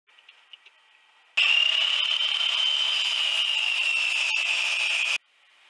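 A power saw cuts through a wooden stud in one continuous loud, high buzzing pass lasting about four seconds, preceded by a few faint knocks and followed by quiet.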